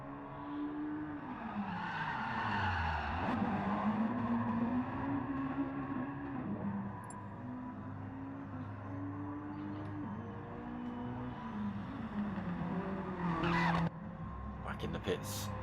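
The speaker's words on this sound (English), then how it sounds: "And a drift round Druids." A Mazda Challenge race car drifts round Druids hairpin at Brands Hatch, its engine note rising and falling under sustained tyre squeal. Excited commentary runs over the car throughout, with a sharper burst near the end.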